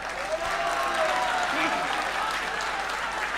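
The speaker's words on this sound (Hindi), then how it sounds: "बंगाल वालों एक बार ताली बजा दीजिए आप लोग।" An audience at a live song performance in Bengal claps along, a soft, steady patter of applause at a moderate distance, with voices and faint music blending beneath it.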